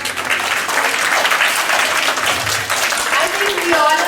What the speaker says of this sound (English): So let's all clap for ourselves first.